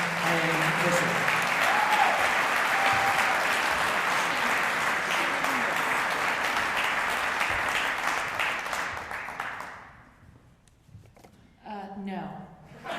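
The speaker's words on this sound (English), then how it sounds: "I would love it if you would give her a rousing round of applause for 2018 Hall of Fame winner Diane Mercier." Audience gives a sustained round of applause for a 2018 Hall of Fame winner at a Boys & Girls Hall of Fame ceremony, dense clapping for about nine seconds before fading, with a voice beginning to speak as it dies away.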